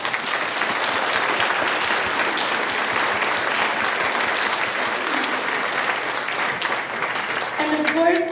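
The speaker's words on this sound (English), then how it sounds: "I would like to give a round of applause to Ms." Steady, dense applause from a school choir concert audience fills the room for about eight seconds, loud and continuous, with a few voices emerging near the end.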